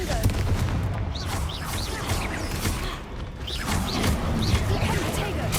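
Confringo fire spell from Hogwarts Legacy: a rapid volley of crackling, booming impacts and crashing debris, loud and continuous, with a brief dip midway and faint background voices mixed in.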